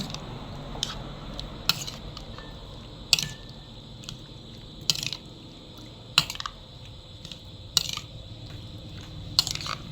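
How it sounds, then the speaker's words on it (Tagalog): Adobo marinating in a pot being stirred, giving soft wet squishing under a steady low background, punctuated by sharp metallic clinks of a utensil against the pot roughly every one to two seconds. "so haluin lang natin siya para medyo manuot yung lasa"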